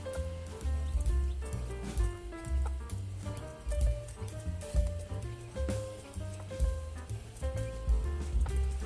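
Splash hen and her newly hatched chicks in a new coop, with repeated clucks and soft peeping calls scattered across the clip over a low background rumble.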